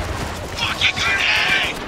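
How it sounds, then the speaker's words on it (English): Gunfire in the video game Spec Ops: The Line, a burst of rapid shots with sharp crackling bursts over a low rumble, loud and close, lasting under two seconds. "Stop shooting at us!"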